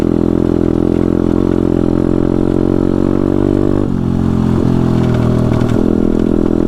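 A pit bike with worn-out suspension rides along in third gear, its loud, steady engine drone close by, pitch dipping and lifting slightly with throttle and a brief rattle midway.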